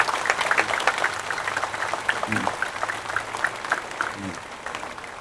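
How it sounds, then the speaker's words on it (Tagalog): An audience at a city hall event gives a round of applause, steady crowd clapping at moderate distance with a few voices mixed in. "Pwede ba palakpakan natin ng pinakamalakas yung palakpak?"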